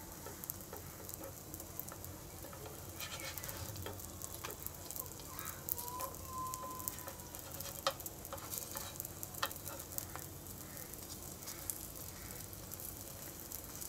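Potato rotis roast on a hot pan with a steady, soft sizzle and occasional light taps and scrapes, close by and alone with no voices over it.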